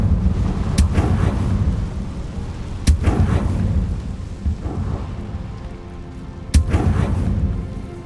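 Confringo spell blasts in Hogwarts Legacy gameplay: three sharp, loud explosive cracks spaced several seconds apart, each with a booming rumble, over a constant rushing, rain-like background roar.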